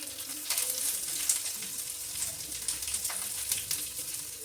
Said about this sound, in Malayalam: നമുക്കിത് ഫ്രൈ ചെയ്യാം അല്ലേ?